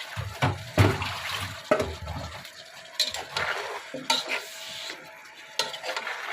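Snakehead fish is stirred and sautéed in a pan with sharp scraping strokes and a light sizzle. The stirring comes in irregular bursts, close and moderately quiet.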